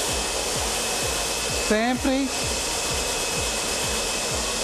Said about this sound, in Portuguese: o secador de cabelos exige alguns cuidados na hora de ser utilizado